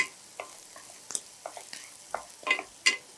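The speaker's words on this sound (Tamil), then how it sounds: "வெங்காயம் வந்து ரொம்ப ஃப்ரை ஆகணுங்கிற அவசியம் இல்லைங்க, பாதி ஃப்ரை ஆனால் போதுமானது" Onions fry in a mix of oil and ghee for rava idli, giving a soft, close sizzle broken by irregular scraping and stirring taps, with no talk.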